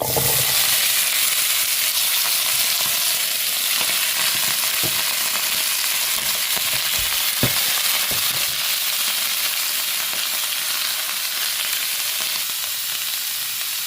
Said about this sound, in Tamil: கொஞ்சோண்டு எண்ணெய் ஊற்றி இது எல்லாத்தையும் நேராக போட்டுடலாம்